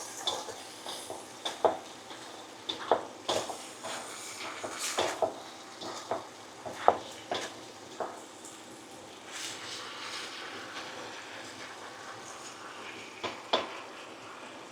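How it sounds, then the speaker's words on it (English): Pork returned to a wok of hoisin stir-fry and stirred through, giving a string of close metallic scrapes and clanks of utensil against pan at an irregular pace over a soft background sizzle. "So at this stage we can add back our pork. Stir that back in."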